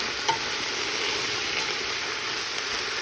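Sliced onions for French onion soup sauté in a pan with a steady, even sizzle and hiss, close and unchanging throughout, with a single faint clink near the start and no talking.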